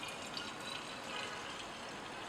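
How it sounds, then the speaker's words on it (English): A benzene and aqueous reaction mixture poured from a flask into a glass separating funnel: a faint, steady trickle of liquid close by, with no talking. "pour the mixture into a separating funnel"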